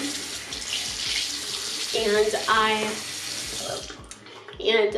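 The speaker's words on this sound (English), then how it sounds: "So then I turn the water back on" Water runs steadily from a sink tap while brushes are rinsed, a continuous hiss that swells with splashing midway and again at the end, close and fairly loud, with a brief spoken word over it.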